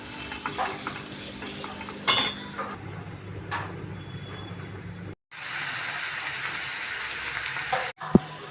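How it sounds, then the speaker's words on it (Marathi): Vegetables stir-fried in a pan with onion and ginger-garlic paste: a steady loud sizzle broken by scraping spatula strokes and metallic clinks, with a brief pause before the frying hiss resumes, with no voices. "अद्रक लसूण पेस्ट टाकली आहे कांदा टाकून घेतला आहे आता या सगळ्या भाज्या मी टाकून घेते"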